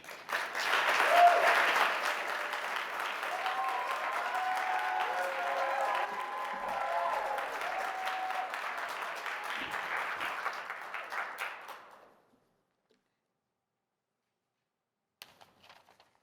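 Audience applause welcoming student government election candidates to the stage, steady clapping from a moderately sized crowd for about twelve seconds that fades out into near silence.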